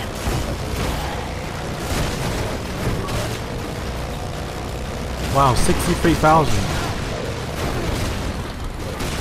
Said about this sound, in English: Okay, explosions knocked me off course there.